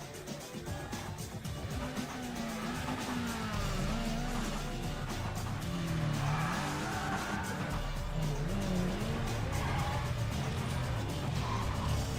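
Chevelle racing in Need for Speed ProStreet during a sector shootout: a loud, continuous engine drone rises and falls through gear changes, with tire skids and squeals mixed in, and no talking throughout.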